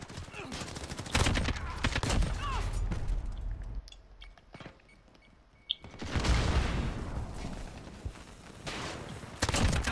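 Bursts of rapid gunfire in Call of Duty Modern Warfare crackle in loud clusters broken by brief lulls, with a voice talking intermittently underneath.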